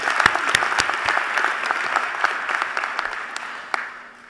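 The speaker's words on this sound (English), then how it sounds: "Please get them a round of applause." Audience applause for elected officials at a university presidential installation ceremony, starting with a few sharp claps then swelling into steady sustained clapping that gradually tapers off over about four seconds.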